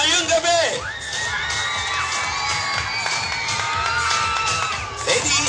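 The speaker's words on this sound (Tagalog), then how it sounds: "hindi natin sisimulan kung walang sigawan ng mga supporters ngayong gabi" Supporters at a children's pageant in the Philippines shout, cheer and whoop loudly and continuously as a crowd, with high children's voices rising above the din.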